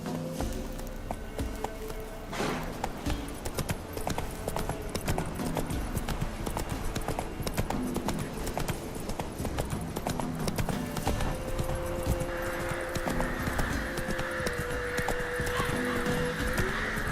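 Roach the horse gallops in The Witcher 3: Wild Hunt video game, a steady rapid clip-clop of hooves running for the whole stretch, loud and close, with a brief whinny mixed in.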